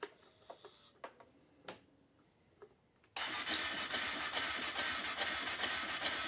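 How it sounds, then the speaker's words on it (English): A Polaris Sportsman 570 engine with its spark plug removed is cranked over: a few soft clicks and ticks come first, then the starter whirs steadily and loudly up close. "I'm going to go ahead and turn it over a few times, make sure everything seems fine"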